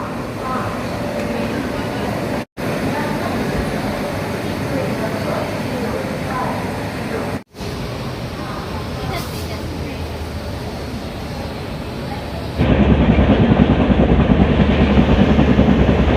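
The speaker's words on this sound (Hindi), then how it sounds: "चलिए अपनी ट्रेन रवाना हो चुकी है लखनऊ चारबाग से।" Kota Patna Express pulling out of Lucknow Charbagh station, with a steady broadband rumble of rolling carriages and track noise that grows louder near the end, close and continuous.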